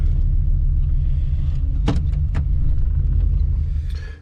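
A 1985 Chevrolet crew cab dually with a swapped LS engine that is misfiring, heard from inside on a test drive as a loud, steady low rumble with a brief clunk midway, fading slightly at the end.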